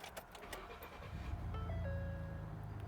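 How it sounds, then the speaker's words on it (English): A 2009-2014 Ford F150 pickup cranks and its engine catches, settling into a steady low idle that grows louder after a brief starter whine, heard up close with no talking. "What I'll do is start up the truck here."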